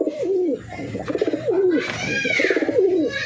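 Pigeons coo repeatedly close by in a home loft, a series of throaty rolling calls in quick succession with a few softer chirps between.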